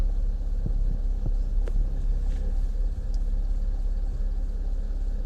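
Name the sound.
Citroen C6 car engine running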